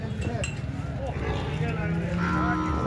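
A young female buffalo calf lows from close by amid a busy cattle market in Dabwali, Punjab, where milking buffaloes are sold, with people chattering and faint clinks in the background.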